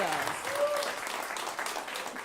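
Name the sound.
audience applause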